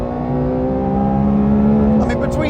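A Ferrari F12 TDF's V12 engine screams at high revs with a steady, loud, sustained howl from inside the cabin, ending with a brief shift.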